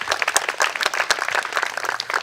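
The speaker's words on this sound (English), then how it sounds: "Guys, give them a huge round of applause," Lively crowd applause at an outdoor Arbor Day tree planting ceremony, with sharp individual claps standing out in an uneven, sustained patter.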